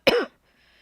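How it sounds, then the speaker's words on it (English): A single short, sharp cough close to the microphone, followed by near silence. "I'm going to mute really quick so I can cough."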